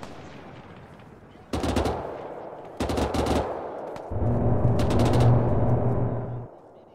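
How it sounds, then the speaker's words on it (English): Several loud bursts of rapid automatic gunfire from a video game, in short volleys separated by brief pauses, over a low rumbling background. "Whoever did the sound design for that gun"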